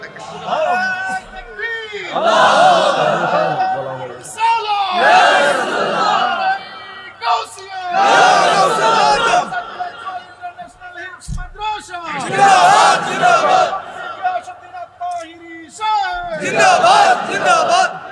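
A large crowd at a religious gathering bellows slogans in loud, rhythmic bursts of shouting, several surging chants with brief gaps between, close and forceful.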